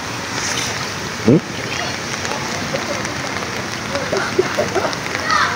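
Rain falls steadily in a broad, constant hiss over water while people talk nearby. A few brief splashes stand out.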